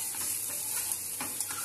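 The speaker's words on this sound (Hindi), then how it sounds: "1 कटा हुआ प्याज डालकर इसे अच्छी तरह सेकेंगे।" Chopped onion with chopped green chilli sautés in a pan with a soft, continuous sizzle and a few faint stirring scrapes, brief and fairly quiet.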